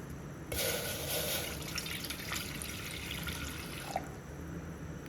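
About 250 ml of water is poured into a cooking pot on a stove to make a multigrain health-mix porridge. A soft splashing, trickling stream starts after a brief pause and gradually tapers, with a final drip near the end.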